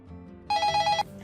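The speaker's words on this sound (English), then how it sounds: "Answer the phone." A telephone bell rings once in a brief, bright, trilling burst of about half a second, loud and close against a quiet background, with no talk.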